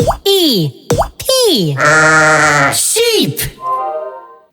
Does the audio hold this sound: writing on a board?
no